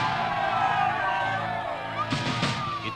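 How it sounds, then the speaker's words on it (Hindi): A large crowd at a political gathering cheers and whoops in a dense, continuous roar, with louder bursts of shouting near the end. "इतनी सारी जनता की भीड़"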